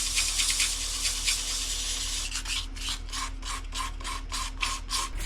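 An apple wood live-edge bowl is hand-sanded with 400 grit sandpaper, a steady close rasping rub that breaks into quick rhythmic strokes in the second half.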